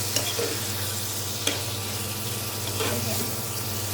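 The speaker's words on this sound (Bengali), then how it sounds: "মাংস একদম ভাজা ভাজার মতো করে কষাই নিলাম ভালো করে" Pigeon meat sizzling in a pan while being stir-fried into a dry bhuna, a steady close frying hiss with a few spoon scrapes and clinks, no voices.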